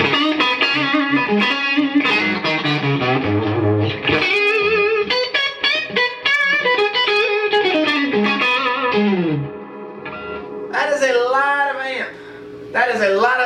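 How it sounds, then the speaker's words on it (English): An electric guitar plays through a 22-watt Fender '68 Deluxe Reverb Custom tube amp, with crunchy overdriven notes and chords. Phrases are loud and sustained, with a short pause before a final flurry. "We're getting a lot of tube crunch right there"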